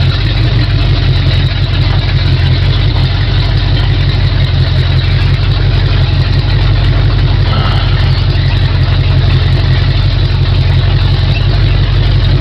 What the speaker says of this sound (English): Ain't nothing like open headers, man. Well, the engine is perking good.